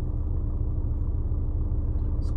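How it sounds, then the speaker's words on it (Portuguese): Steady traffic rumble on a city street in Natal's Alecrim district, with car engines droning continuously close by and no distinct single pass-by standing out. "Os carros aqui estão vindo ligeiro."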